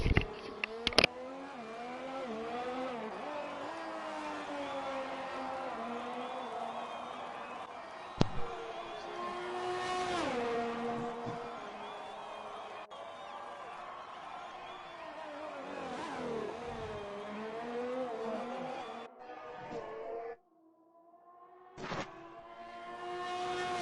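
Engine whine of F1 race cars in an F1 video game league race at Australia, with harmonic engine tones rising and falling as cars accelerate and shift, steady and fairly loud throughout, with a brief drop near the end.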